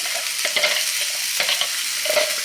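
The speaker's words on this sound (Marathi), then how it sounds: "ह्या भाज्या संपूर्णपणे ह्या तडक्यामध्ये घालून घ्यायच्या" Finely chopped mixed vegetables are stirred into a hot oil tempering for semolina appe, giving a loud close sizzle with brisk scraping stirs, no voices.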